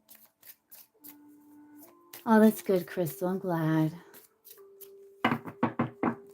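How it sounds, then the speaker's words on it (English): Tarot cards being shuffled during a live reading, brief papery riffles and taps at the start and again near the end, with someone talking over the middle. "I love the sound of cards shuffling."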